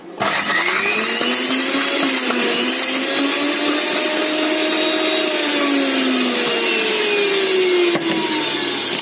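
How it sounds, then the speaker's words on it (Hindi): A blender runs loudly and continuously while blending a lemon Tang slush with ice, a steady high motor whine with gliding pitch and a grinding churn throughout. "थोड़ी और गाइस अभी ब्लेंड करेंगे"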